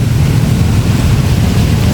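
Floodwater rushes from a river overflowing after a short rain, a loud, dense, constant roar heavy in the low end, steady with no breaks and no voices.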